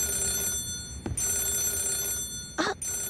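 A telephone bell rings twice in the Yakuza 0 video game, loud and close, with a short pause between the two rings over a steady electronic hum.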